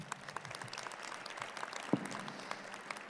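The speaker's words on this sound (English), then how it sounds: "Let's have a round of applause for them." Light, scattered clapping from a small audience, fairly soft and uneven, with a few sharper claps standing out.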